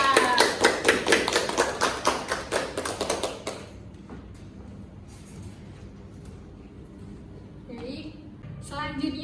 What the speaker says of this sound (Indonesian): Tepuk tangan buat Maila.